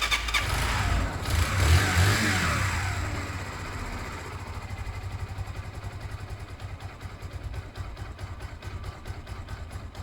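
A Zontes Mantis 125cc motorcycle starts with the choke on. The engine catches in a loud, rough surge, then settles into a steady, fast-ticking idle close to the microphone.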